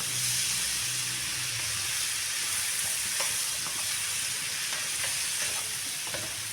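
Mushrooms frying in a pan with spices for a winter soup, a steady broad hiss of oil with a few faint clicks of stirring scattered through, close and even in level, no speech.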